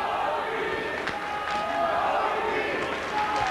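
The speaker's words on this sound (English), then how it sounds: "the crowd are starting to get behind their man now" A boxing crowd at a fight between Carl Thompson and Ralf Rocchigiani, a dense continuous roar of cheering and shouting from a large arena audience, steady and loud with no pauses.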